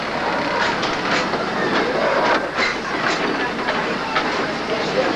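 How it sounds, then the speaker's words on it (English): A Disneyland ride train in 1987 rumbles along the rails with steady clickety-clack and rolling noise, and a voice speaks over it. "while the train is moving"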